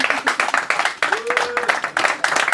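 A comedy show crowd claps in quick rhythmic bursts, close and fairly loud, with a voice briefly heard among the claps.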